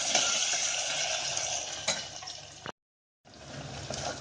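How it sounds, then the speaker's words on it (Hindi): Chopped onions fry in a pan with garlic-ginger paste for black pepper chicken, giving a steady, close sizzle with stirring scrapes that cuts out briefly before resuming. "प्याज को अच्छी तरह भूनेंगे हम ब्राउन कलर आने तक"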